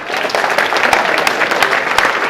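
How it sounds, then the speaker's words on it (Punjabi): A crowd claps hard at a village prize distribution event, a dense burst of applause with some individual sharp claps standing out, loud and close. "ਸਾਰੇ ਭਰਾਵਾਂ ਨੂੰ ਰਿਕੁਐਸਟ ਹੈ ਕਿ ਇੱਕ ਵਾਰੀ ਜ਼ੋਰ ਦੀ ਤਾੜੀਆਂ ਮਾਰੋ"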